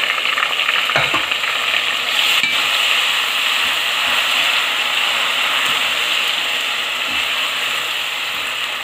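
A steady, loud sizzle of ginger-garlic paste frying in a hot pan, with occasional scraping stirs and clicks throughout.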